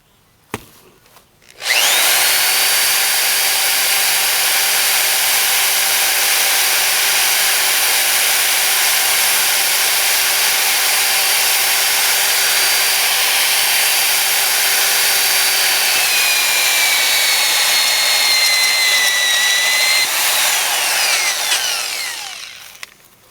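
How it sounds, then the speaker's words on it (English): Power drill boring a 3/4 inch hole through a standard well cap, one loud steady whine lasting about twenty seconds with pitch shifting near the end, close and uninterrupted. "This needs to be a 3/4 inch hole"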